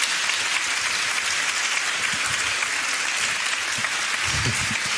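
A snooker crowd applauds a shot with dense, steady clapping that fills the room evenly from start to finish.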